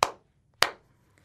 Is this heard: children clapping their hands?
yes